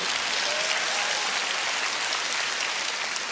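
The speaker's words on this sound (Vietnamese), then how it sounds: "cho một tràng pháo tay với bà con ơi" Steady, dense applause from a theater audience at a Vietnamese stage comedy, filling the whole stretch at an even level with no voices on top.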